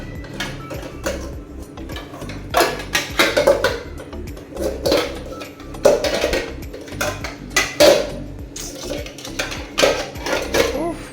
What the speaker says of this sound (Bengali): চালটাকে ধুয়ে নিই